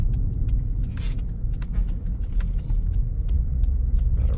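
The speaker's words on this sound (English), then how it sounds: "we're going on a quick test drive here" Interior drone of a 2022 Lexus ES 350 on a test drive, a steady low road and engine rumble with faint light rattles on top, continuous and fairly quiet, no talk.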